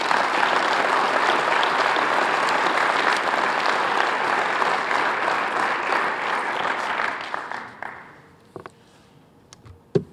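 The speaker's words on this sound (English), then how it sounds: "how about one nice last round of applause for our candidates this year?" Audience at a high school football awards ceremony giving a sustained round of applause for the candidates, dense clapping that tapers off into a few scattered claps near the end.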